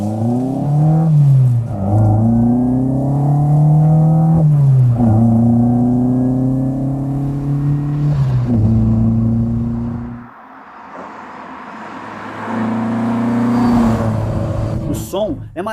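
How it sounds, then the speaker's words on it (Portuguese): A loud Fiat 131 Abarth twin-cam engine revs repeatedly, climbing and falling in pitch with brief pauses, then drops to a lower idle before revving again. "O som é maravilhoso e esses motores eram tão avançados para a época."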